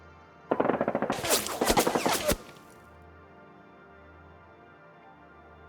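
Rapid bursts of gunfire from a tabletop wargame battle of Soviets against US forces in Konflikt '47, a loud rattling machine-gun volley lasting under two seconds, then fading to quiet background hum.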